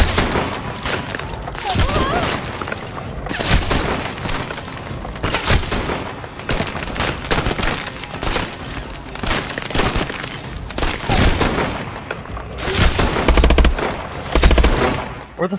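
Dense gunfire in Call of Duty: Advanced Warfare: rapid automatic bursts and scattered shots keep going without a break, close and loud, with occasional heavier thuds and voices calling out amid the firing.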